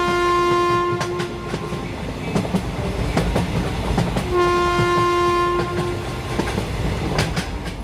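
A cartoon-style moving train sounds two long, loud horn blasts over a constant rolling clatter of wheels on rails.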